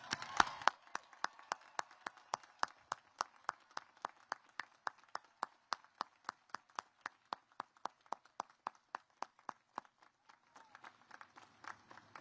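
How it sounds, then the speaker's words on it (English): Audience applause at the U.S. Coast Guard Academy commencement ceremony: a steady run of evenly spaced, crisp claps, moderately faint, continuing for about ten seconds before thinning out and stopping. "Please join me in a heartfelt round of applause."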